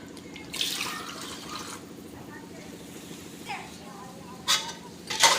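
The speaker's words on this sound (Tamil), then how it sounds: "தண்ணி சேர்த்துக்கிட்டாச்சு." Water poured into a cooking pot for biryani, splashing bursts rising and falling over a steady hum, with a couple of sharper splashes and clinks near the end while someone talks.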